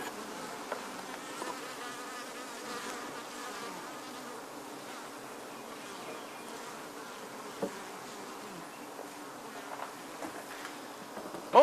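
Steady, dense buzzing of many honey bees around hives, a soft continuous hum with occasional closer passes, no voices.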